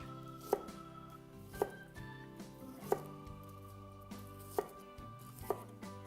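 A knife finely mincing vegetables on a cutting board in a kitchen, with a few sharp, evenly spaced chops close by over a quiet background hum.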